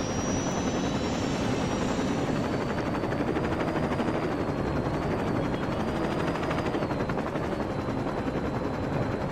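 A helicopter in Saints Row 2 flies with a steady, loud rotor and engine roar that fills the whole stretch without a break, and nobody speaks over it.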